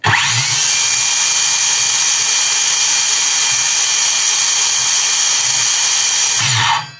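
A YUANSEN cordless circular saw, guard fitted, spins up for a speed test and holds a loud, close, steady high whine for about six seconds before winding down, with no talk over it.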